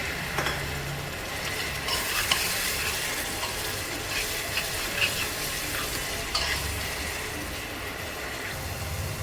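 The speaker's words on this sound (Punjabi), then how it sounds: "ਦੋ ਕਿ ਚਮਚੇ ਅਸੀਂ ਪਾਣੀ ਦੇ ਵਿੱਚ ਪਾ ਕੇ ਤੇ ਮਸਾਲੇ ਨੂੰ ਭੁੰਨ ਲਵਾਂਗੇ" Ground masala roasting in a pan with a couple of spoons of water, after tomato puree is mixed in, for a mushroom and peas curry: a steady sizzle with stirring scrapes, close and continuous, no talking.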